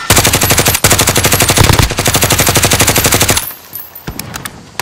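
Sustained automatic gunfire in Call of Duty: Modern Warfare Warzone on PS4, loud rapid bursts running almost three and a half seconds with a brief break, then a few scattered single shots trailing off.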